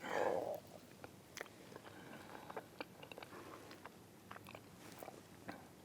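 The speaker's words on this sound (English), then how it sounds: "It's like you have to take 2 chews and swallows to get down to the actual Oreo type cookie that's in it" Someone chews a chocolate Oreo cookie dessert topped with rich chocolate syrup, the bites coming through as soft, close, irregular crunching and mouth clicks after a brief louder burst at the start.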